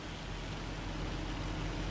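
Rain in the farming game Farming Simulator 25: a continuous, even patter of falling rain, a steady dense hiss with a low rumble beneath, no voices.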